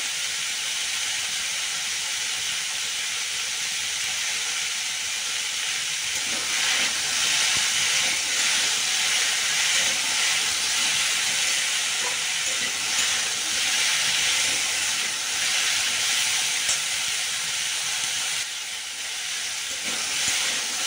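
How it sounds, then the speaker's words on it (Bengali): Ingredients for bottle gourd greens posto fry in a pan with a steady, loud sizzling hiss that runs unbroken and close, with occasional soft crackles and stirring touches and no talking. "এটা একটু ভেজে ভেজে নিতে হবে।"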